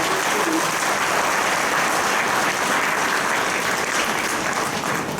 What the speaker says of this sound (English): I really would like us all to applaud the hard work and achievement of the students